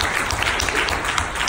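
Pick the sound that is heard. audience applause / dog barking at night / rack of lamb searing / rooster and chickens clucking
audience applause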